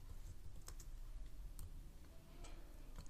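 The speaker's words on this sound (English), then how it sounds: "You can see that I'm typing here" Quiet typing on a computer keyboard, a scatter of soft irregular key clicks over faint background hum, with no talking.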